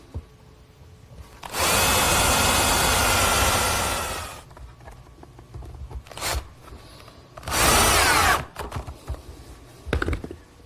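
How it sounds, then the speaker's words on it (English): A power drill bores screw holes through a wooden shelf set into a dado, first in a long whirring burst, then a brief one, then another sustained run, with quiet handling noises between. "Drill a few holes for some screws."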